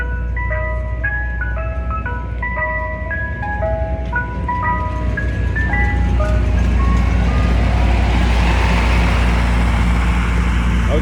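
An ice cream truck passes through a residential neighborhood, its jingle chiming loud and near over a low engine rumble, then giving way to rising traffic noise as it moves on.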